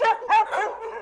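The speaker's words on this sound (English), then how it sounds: "They got the dogs barking." Dogs bark in a quick burst of three or four sharp, close yelps with no speech in between.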